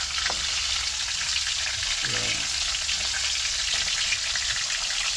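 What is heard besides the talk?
frying a dish in a pan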